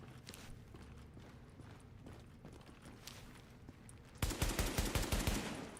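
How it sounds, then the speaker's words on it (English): Gunshots fired as warning shots in a survival video game: faint scattered pops at first, then a loud rapid burst of repeated shots near the end, with no talk. "I'm firing some warning shots."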